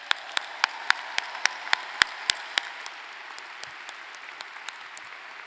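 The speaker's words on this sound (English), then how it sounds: "Please join me in showing our appreciation with a round of applause for their efforts." Sparse applause at a spring commencement ceremony: a handful of distinct, sharp claps ring out in a loose rhythm, then thin out into faint scattered hand claps in a quiet hall.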